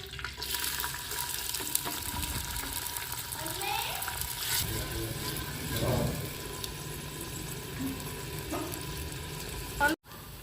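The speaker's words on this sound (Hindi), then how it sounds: "घिओ गरम हो गया, मैं प्याज पावांगी।" Onions fry in hot ghee in a pan, giving a continuous hissing sizzle with watery crackle that keeps going the whole time, while someone talks over it.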